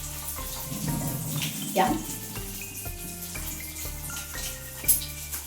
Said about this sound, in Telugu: ఫస్ట్ హ్యాండ్ వాష్ చేసుకుంటాను